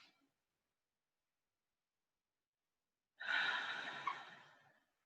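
A deep yoga breath, a long, steady, breathy exhale lasting nearly two seconds after a silent pause, close and fairly loud, with no talking.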